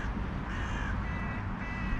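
Crows caw repeatedly over a low rumbling background, several harsh calls in a loose rhythm, moderately near but fairly quiet overall.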